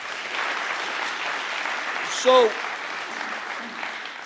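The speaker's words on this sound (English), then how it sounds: "Let's give him a round of applause." Audience applause at a performing arts center ribbon-cutting, steady crowd clapping throughout, with a brief voice speaking over it midway.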